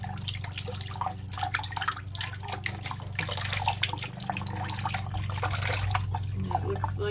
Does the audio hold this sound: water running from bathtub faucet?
yes